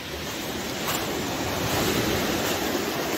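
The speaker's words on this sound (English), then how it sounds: "these waves are getting really silly" Ocean waves washing onto the shore at Beacon Hill Park, a continuous loud roar of surf mixed with wind buffeting the microphone, no voices.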